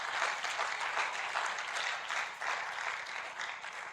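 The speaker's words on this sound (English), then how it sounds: "A round of applause." An audience at an inaugural lecture at Chukwuemeka Odumegwu Ojukwu University claps steadily, a dense, sustained wash of applause with no voices over it.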